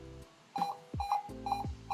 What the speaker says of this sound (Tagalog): Para na siyang beep, beep, beep.